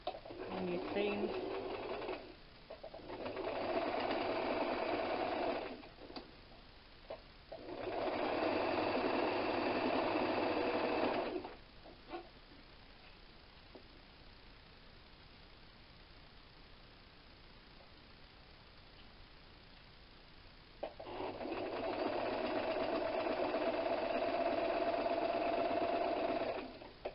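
Sewing machine stitching quilt block pieces together for a Christmas tree quilt block, running in three steady whirring bursts with quiet pauses between them, close and clear.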